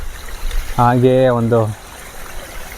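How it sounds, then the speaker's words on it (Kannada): Water flows steadily down a waterfall, a soft, continuous rushing under a man's close speech, audible before and after he talks. "ಮೇಲ್ಗಡೆಯಿಂದ ಹರಿತಿರೋಂಥ ನೀರು"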